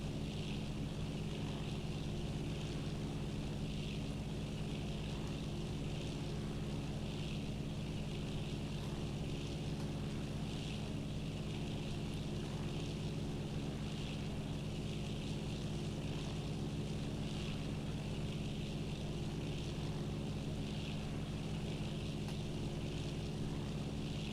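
Steady, loud drone of a turbocharged Bonanza's propeller engine in Flight Simulator 2000, a constant hum with a higher whine running unchanged throughout with no talking.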